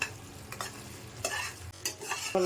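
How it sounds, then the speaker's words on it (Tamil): Semolina burfi mixture with sugar syrup stirred in a pan, producing repeated scraping and sloshing strokes with a soft sizzle underneath, close and fairly quiet. "எல்லா பாவும் ஊற்றிட்டு நல்லா மிக்ஸ் பண்ணுங்கள்"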